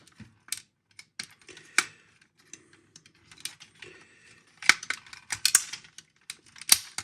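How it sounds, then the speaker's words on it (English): Ratchet joints on a Jinbao Dr Crank toy figure click as the limbs are moved, giving sharp, close, irregular clicks in short bursts separated by quiet gaps, with no talk. "We heard ratchets a moment ago."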